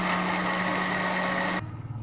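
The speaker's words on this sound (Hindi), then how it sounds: "इसे ब्लेंड करते हैं 1 से 2 मिनट तक।" Electric blender whirring steadily as it blends strawberry, lemon juice and watermelon pulp, a loud close motor drone that cuts off abruptly near the end.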